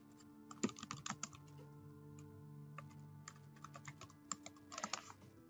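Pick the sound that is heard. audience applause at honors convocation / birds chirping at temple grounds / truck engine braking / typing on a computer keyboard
typing on a computer keyboard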